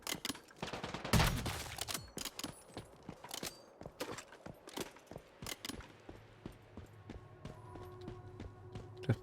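Rapid gunfire in the Once Human survival game, dense bursts of sharp shots in quick irregular succession, close and loud at first, then continuing as thinner pops over a low steady hum.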